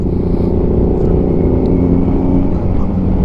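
A motorcycle rides near Kaybiang Tunnel, its engine a loud, close, steady drone that holds an even pitch from start to finish without obvious revving.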